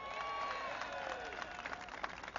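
Crowd at a Florida rally applauding, a dense wash of clapping and cheering that swells and then thins out, with a voice heard faintly over it.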